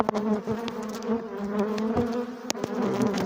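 Honeybees drone steadily at a hive during colony inspection, a dense continuous buzz holding close and loud throughout, with a few sharp knocks of handling breaking through.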